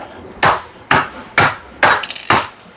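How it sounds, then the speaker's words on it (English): A hammer strikes a part of a Brunswick GSX pinsetter universal drive assembly five times at an even pace, each blow sharp and close with a short ringing decay, and no voices. "Can we tap this down with a hammer?"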